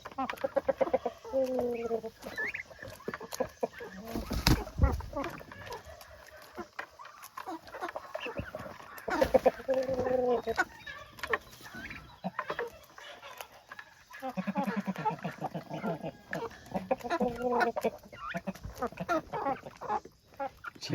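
Chickens cluck and chatter close by while drinking in a backyard pen where Japanese beetles are being fed to the poultry, giving repeated short calls with brief pauses and a few sharper squawks.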